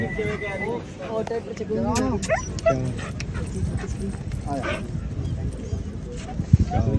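A tall racing dog barks in scattered short bursts at a dog show in Bathinda while several people talk loudly nearby.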